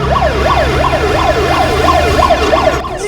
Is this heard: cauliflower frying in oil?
no